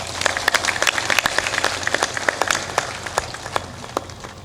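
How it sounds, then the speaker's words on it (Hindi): An audience at a spiritual discourse breaks into dense, crackling applause, with sharp individual claps standing out over a steady patter for several seconds. "ताली बजाने की बात है तो जोरदार ताली भी बजा दो।"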